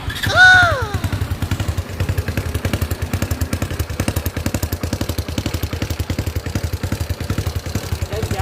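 A remapped Honda Dream Super Cub motorcycle engine runs close and loud with an even, rapid exhaust thump, holding a steady rhythm throughout after a short rise at the start.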